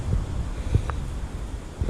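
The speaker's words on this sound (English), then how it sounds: "because it's very windy today" Strong wind gusting across an exposed hilltop near Widecombe-in-the-Moor, a steady low rumbling buffet against the microphone with brief louder surges, no voices.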